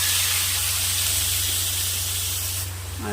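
Loud, continuous hiss of raw masala gravy sizzling in hot oil after mustard seeds, for an eggplant curry, steady throughout with a low hum underneath.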